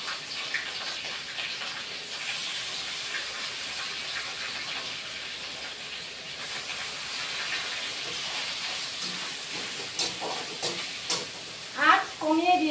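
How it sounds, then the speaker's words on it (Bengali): Banana flower goes into a pan of browned garlic, giving a steady close sizzle and hiss over low heat, with stirring clatter building near the end. "বন্ধুরা রসুন লাল হয়ে এসছে, এবার কলার ঠোঁটটা দিয়ে দিচ্ছি"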